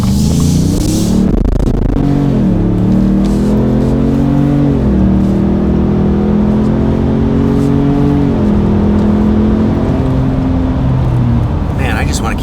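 A 2021+ Ford F-150 with an MBRP 3-inch cat-back, single-side-exit exhaust revs hard under acceleration, its deep engine note climbing and dipping in pitch several times, loud and close, with a brief voice near the start.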